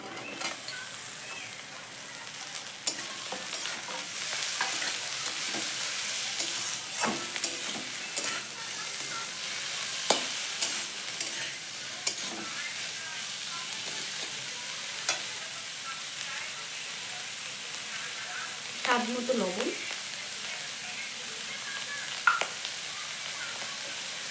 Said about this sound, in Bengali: পেঁয়াজ রসুন ভালো করে ভাজি নিচ্ছি এখন আমি এতে দেবো কুচিয়ে রাখছি কুশিটা আর হলো চেরা কাঁচা লঙ্কা